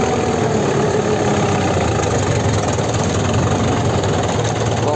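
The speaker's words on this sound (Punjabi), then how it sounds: "ਦੋਨੇ ਲੀਵਰਾਂ 'ਤੇ ਚੱਲੀ ਜਾਂਦਾ ਟਰੈਕਟਰ" A Preet 6049 tractor engine drones steadily in a field during lift testing. The loud, close, continuous rumble holds even throughout with no pauses.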